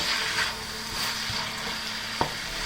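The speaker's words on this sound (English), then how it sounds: "I can add the carrots and the long beans or the bora beans and let that fry" Carrots and long beans fry in a pan over high heat, giving a steady, close hiss with one sharp clack of a utensil near the end.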